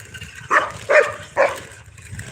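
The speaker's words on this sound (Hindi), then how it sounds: "तो कुत्ता भाई देखा काटे खाते दौड़ रहा है," A dog in a village lane beside an open drain gives three short, loud barks about half a second apart, with faint outdoor background noise between them.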